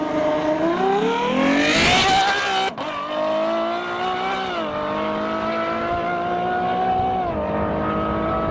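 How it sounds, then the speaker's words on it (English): A powerful Ferrari F12 V12 engine roars as it launches under launch control, pitch climbing through rising gears with a brief shift break, loud and close throughout. "Luckily it won't overwhelm the sounds of that V12."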